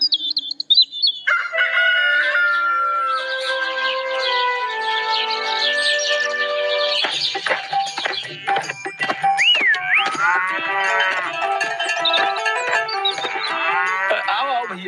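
A buffalo moos loudly in an animated Hindi comedy story, long drawn-out calls with a rooster crowing and other farmyard animal sounds mixed in.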